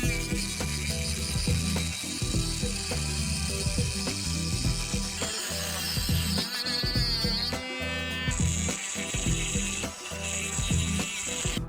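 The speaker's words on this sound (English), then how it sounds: "So to grind those coil bosses off, I will use my Dremel with a cutoff wheel." A Dremel rotary tool fitted with a cutoff wheel grinds the coil bosses off a mini bike engine, giving a steady high-pitched whine with rattling, ratcheting mechanical chatter throughout and no voices.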